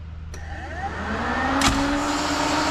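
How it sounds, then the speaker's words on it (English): Starter motor on a turbocharged K-swapped Integra briefly bumping the engine over, a rising whirring crank with a mechanical clunk partway through, close and fairly loud, no talking. "I'm gonna have the wife just kind of bump the starter over a little bit"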